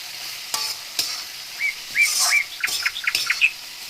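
Food being stirred with light soy sauce in a frying pan while making stir-fried rice noodles with eggs, with soft scraping strokes over a gentle sizzle and occasional bird chirps behind, no talk.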